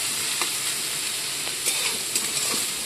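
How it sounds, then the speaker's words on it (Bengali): Onions and green chillies frying in hot oil, a steady close sizzle and hiss with a few brief crackles and stirring scrapes, no voices. "পেঁয়াজটাকে আমি ভালো করে ভেজে নেব।"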